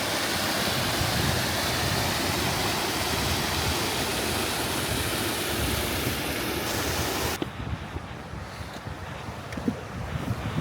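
Rushing roar of a waterfall near Trolltunga in wet, stormy weather, loud and steady with wind buffeting the microphone, then dropping abruptly to a quieter, thinner wash of water for the last few seconds.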